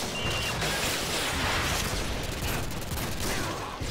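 Rapid, continuous gunfire from Call of Duty: Modern Warfare 2 multiplayer, dense bursts of automatic shots and blasts filling the whole stretch at steady loudness, with no talk over it.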